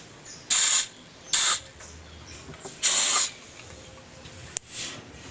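White spray paint hisses onto a part of a GE 10 kg washing machine in short bursts, three strong sprays and a quick final puff, close and loud with quiet pauses between.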